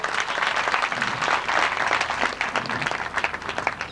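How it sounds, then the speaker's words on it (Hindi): Welcoming applause from a devotional gathering honoring a spiritual teacher, a continuous wash of many hands clapping, fairly loud and even, with faint voices underneath. "तालियों से स्वागत करें।"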